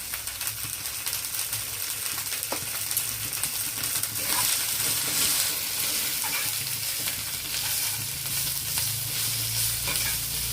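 Spice masala sautéed and stirred in a pan, a continuous loud sizzle and frying hiss with scraping stir strokes throughout, no talking.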